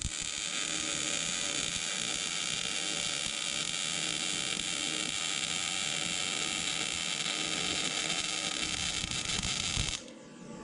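MIG welder running a weld bead in a shop, a loud continuous crackling sizzle held steady for about ten seconds before cutting off abruptly.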